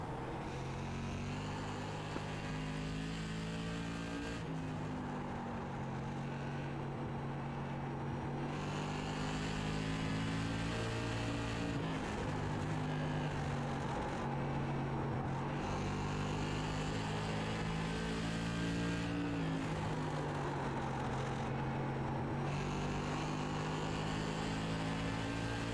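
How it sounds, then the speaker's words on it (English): Onboard an SK Modified race car lapping Oxford Plains Speedway, the engine drones steadily and loudly throughout, its pitch rising and easing in repeating cycles through the corners, with no talk over it. "Let's take a ride with Tom Johnson and see what it's like to go around Oxford Plains."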